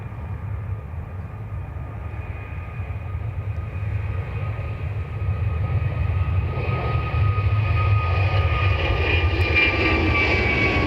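Qatar Airways airliner lined up on runway 28 right at Dublin Airport, its jet engines a steady broad roar that swells louder over the clip, with a rising whine on top and no talk.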